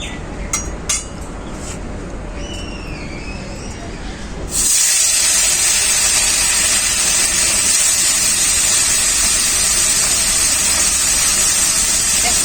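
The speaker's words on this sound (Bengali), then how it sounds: "তেলটাও খুব ভালো করে গরম হয়ে গেছে আমি মাছগুলো ভেজে নেবো" Small koi fish frying in hot oil, with a faint background at first, then a sudden loud, continuous sizzling hiss that starts midway and carries on steadily to the end, close and dominant.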